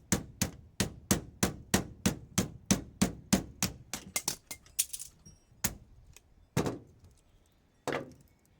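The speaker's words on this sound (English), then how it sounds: "take a screwdriver, start pounding out the slots like that" Screwdriver hammered against a scrap microwave fan to knock copper windings out of its slots, giving a fast run of sharp metallic clanks that slows into scattered, irregular strikes.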